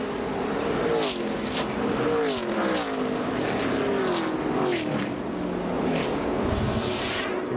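Onboard NASCAR Nationwide race car at Talladega in 2011, engine roaring loud and steady with wavering pitch as the pack draws up, other cars whooshing past close by.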